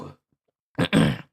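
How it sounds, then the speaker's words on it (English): Several short, rough coughs or throat-clearing bursts, one brief burst at the start and a louder cluster of two close coughs near the end, separated by silence. "I will not be perturbed by these coughs."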